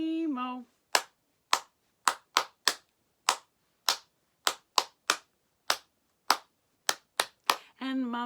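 Hands clap in a slow, spaced rhythm about fourteen times at the end of a children's song during a home storytime session, each clap sharp and close, with singing just before and after.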